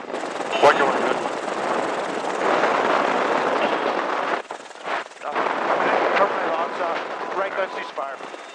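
A GAU-21 .50 caliber machine gun fires from a military helicopter in long, loud bursts of dense gunfire over a steady rotor and engine roar, with a brief lull midway and radio voices speaking.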